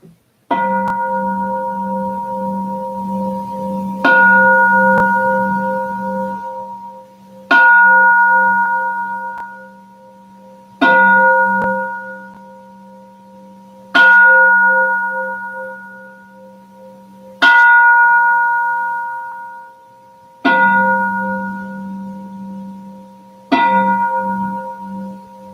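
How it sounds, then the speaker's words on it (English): A resonant bell is struck eight times at a slow, fairly even pace, each ring loud and close with a long, shimmering decay. "Want me to ring the bell?"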